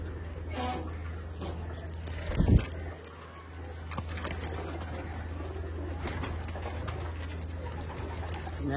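Pigeons coo in a home pigeon loft in summer: soft, low coos repeat through a steady hum, with one brief loud thump or flutter near the middle.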